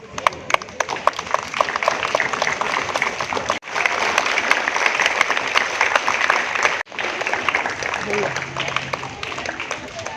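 Loud, dense applause from a school crowd at an Independence Day celebration, sustained clapping that breaks off twice briefly before resuming, with some voices mixed in.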